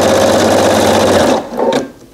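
A sewing machine runs fast and loud up close, rattling steadily as it stitches a serpentine quilting pattern, then slows and stops with a couple of short final bursts.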